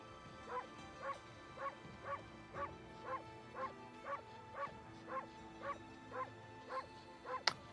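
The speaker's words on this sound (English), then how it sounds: "This game has a dedicated bark button." Repeated short dog barks from the bark button in the Okami video game, about a dozen evenly spaced yips in a steady rhythm over faint game music, ending with a sharp click.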